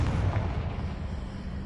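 A Confringo fire spell goes off in Hogwarts Legacy: a single deep, booming blast that is loud and close at first, then rolls away into a rumbling decay with no voices.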